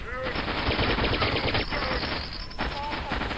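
Rapid gunfire from a Quake mod shotgun fills the space with dense, loud, continuous blasts over the whole stretch, close and harsh, with a few brief tonal game effects mixed in.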